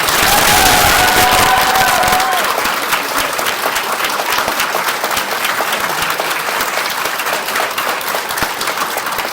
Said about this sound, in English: Let's give our graduates one more round of